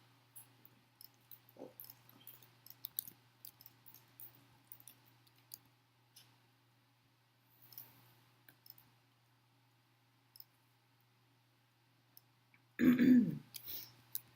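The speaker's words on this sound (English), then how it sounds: "I want the coughing to end." Quiet room with faint clicks and rustles, then one short loud cough near the end.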